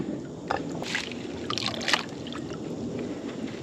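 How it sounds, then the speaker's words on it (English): Material from a rain gutter sluice washed out with water into a gold pan: soft sloshing and trickling water with a few brief splashes and scrapes, fairly close and steady, no talk. "So I'm going to wash this material out into my gold pan"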